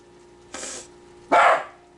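Dogs barking inside a home kitchen: two short, sharp barks a moment apart, the second louder and closer, with quiet room tone between them and no talking.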